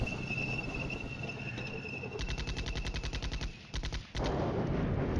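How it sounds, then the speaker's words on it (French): An artillery duel in the Cold War strategy game Flashpoint Campaigns: Cold War, with rapid bursts of gunfire and shell impacts crackling in dense volleys, briefly dropping away before resuming, no talking. "Notre artillerie frappe sur la sienne. Un vrai duel d'artillerie là."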